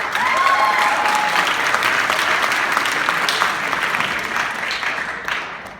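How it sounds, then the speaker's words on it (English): A school audience applauds the Art Club for its artwork, a dense, loud wash of clapping that holds steady for several seconds before beginning to taper off, with a brief whistle-like tone near the start. "give a big round of applause for the Art Club for their great artwork out in the lobby today"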